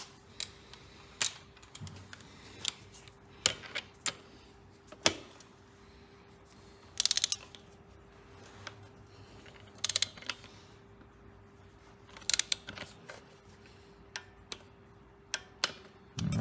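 A hand torque wrench ratchets while an old restored engine's bolt is tightened to 75 inch-pounds, giving sharp scattered clicks and short bursts of ratcheting over a quiet steady hum, alone without talk.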